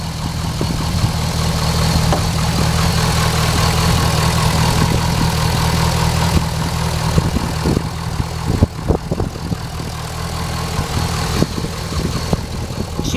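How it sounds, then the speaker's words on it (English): A Corvette LS2 V8 idling with the hood open, a steady, close, loud low rumble with no audible knocks or ticks, plus a few faint clicks and bumps nearby. "As you can hear, there are no knocks or ticks coming from the engine of the car."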